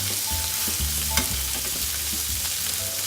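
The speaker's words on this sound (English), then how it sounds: "Now my second lot of pork behind here that you can't see needs turning." Sesame-crusted pork sizzles in a frying pan, a dense close hiss with a few brief stirring and turning clatters and no speech.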